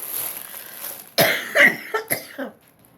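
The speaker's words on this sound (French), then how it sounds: "excusez-moi, je vais tousser" Several harsh coughs in quick succession, close and loud, a sharp burst followed by three shorter hacks, over near silence.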